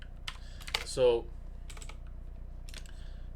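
Rapid clicking of a computer keyboard being typed on while Python code is written, in short bursts with pauses, under a brief spoken word.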